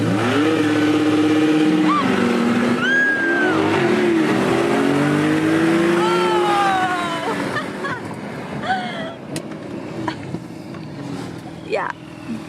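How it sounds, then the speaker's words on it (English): A Chevrolet Corvette C8 and an all-wheel-drive Porsche 911 Carrera 4S race on a runway, their engines revving hard with rising pitch sweeps through the gears, loud and close at first, then fading into the distance. "We're gonna try to stack up to see how the C8 does versus the Porsche 911 Carrera 4S."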